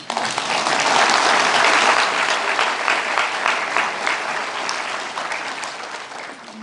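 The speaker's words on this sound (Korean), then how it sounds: "여러분들을 위하여 박수를 치십시오" Dense, sustained applause from a large audience at a Korean humanities lecture, a steady wash of many hands that swells early and then slowly thins toward the end.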